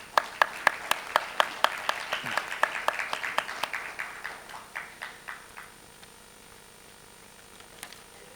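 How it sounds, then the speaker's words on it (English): Scattered applause in a parliamentary meeting hall as a speaker comes to the podium, a small group of hands clapping in sharp distinct claps that thin out and fade to near quiet, with one late clap. "Can we give her a round of applause?"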